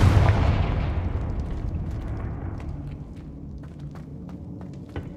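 A fiery spell blast in Hogwarts Legacy erupts as a loud, deep boom that rolls out into a long rumbling decay, with faint crackles and small pops scattered through the fading tail.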